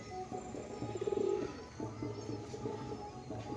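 A pair of pigeons, a male and a female kept for sale, give a soft, low burbling coo that swells briefly near the middle and then fades among quieter murmurs and light background noise.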